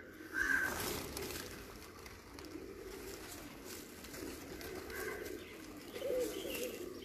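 Pigeons coo softly in a loft or enclosure, low throaty calls recurring every few seconds at moderate distance over a quiet background hiss.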